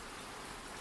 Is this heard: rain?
yes